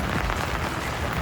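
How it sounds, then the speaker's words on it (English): Rain falls steadily outdoors during a roadside engine cam install on a Mazdaspeed Miata, a dense, even hiss with no voices. "I got rained out"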